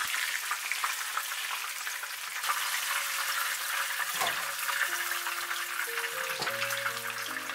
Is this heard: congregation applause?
no